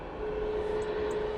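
An Airbus A330 airliner taxis across a road at Manchester Airport, its engines giving a steady, fairly distant broadband roar with a faint sustained whine that holds evenly throughout.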